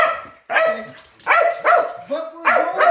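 A dog barks and yips excitedly at going to the dog park, several close, loud, whiny barks in quick bursts with short pauses between them.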